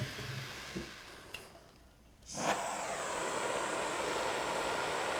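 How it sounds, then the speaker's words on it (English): A harsh, steady flame hiss from a Bernzomatic propane pencil torch cuts out briefly, then roars back as the torch relights and keeps hissing evenly up close. "And it has that nice, harsh, hissing sound."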